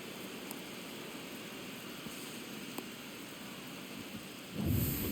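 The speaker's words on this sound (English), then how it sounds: "This rain is not letting up." Steady rain hisses throughout a stormy ballpark scene in MLB The Show, with a low rumble of thunder swelling near the end; no voices.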